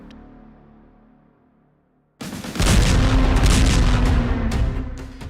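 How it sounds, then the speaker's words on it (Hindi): Bombing explosions in Lebanon, from news footage: after a quiet low rumble, a sudden heavy blast breaks in and swells into a loud, sustained booming roar that slowly fades. "इन धमाकों और मौतों का नया आंकड़ा आने के साथ नेतन्याहू ने भी एक हमला कबूल किया"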